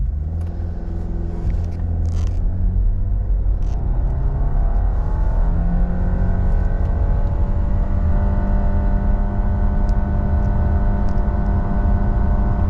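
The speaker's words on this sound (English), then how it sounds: "We'll brake rev the CVT and then I'll verbalize the true 0 to 60." A 2023 Subaru Impreza Premium hatchback with a CVT launches from a brake-rev hold and accelerates hard, a steady loud engine drone at high RPM with rising whine tones throughout, close and continuous with no talk.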